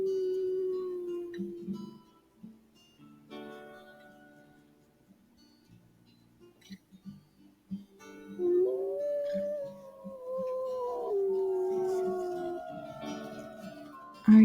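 A dog howls in long, wavering cries, softer and broken at first, then rising into a sustained, mournful howl near the end.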